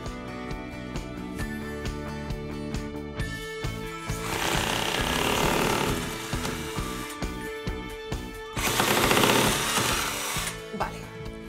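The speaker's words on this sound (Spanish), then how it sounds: "Paso el taladro." A power drill whines in two sustained bursts drilling into a bedroom wall, loud and close, with short clattering handling noises and brief Spanish speech between them.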